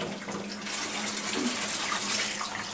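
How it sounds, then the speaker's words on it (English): Water runs steadily into a bathtub in a video game, a continuous broadband rushing that swells slightly louder after the first half second and holds evenly to the end, with no talking. "Are you gonna put more water in the bath?"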